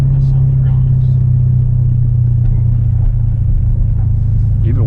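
Steady low growl from a Jeep SRT with an aFe Power exhaust idling, heard from the cabin as a constant deep drone, with someone talking briefly over it.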